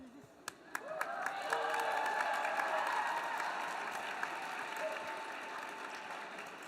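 Audience at a university Model UN closing ceremony applauds and cheers for a steady stretch after a couple of sharp early claps, with the crowd noise swelling and holding while faint voices carry underneath.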